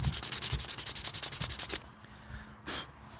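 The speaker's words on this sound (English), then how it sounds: "I'm about to drop down to 400 grit, maybe 600, and kind of finish this guy off" Sandpaper, 400 grit, rubbing a cup-shaped workpiece by hand in a quick, steady rhythm of close, loud strokes, about twenty in a row, then stopping with a brief scrape afterward.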